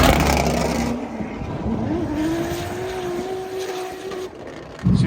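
A race car engine drives off and rises in pitch before holding a steady, droning note. It is close and loud throughout, with a sudden louder burst right at the end.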